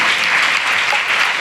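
Congregation clapping during a Christian church service, a continuous wash of dense applause at steady volume throughout, with no gaps.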